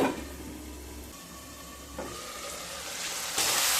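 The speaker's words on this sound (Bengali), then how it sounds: "আবারও ঢাকা দিয়ে মিডিয়াম টু লো স্টিমে সবজিগুলোকে ভালো করে ভেজে নেব।" Mixed vegetables with capsicum, potato and tomato fry in a covered pan over medium-low heat, giving a continuous close hiss that swells slightly near the end.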